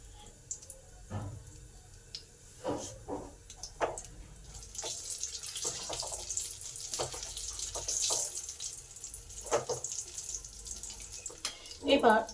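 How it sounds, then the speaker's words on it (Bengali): Chicken pieces for KFC-style fried chicken crackle and bubble in hot oil, a soft, uneven sizzle with intermittent pops and utensil clicks, heard faintly under occasional talk. "এবার পরিবেশন করার জন্য বাকিগুলো ভেজে নিই।"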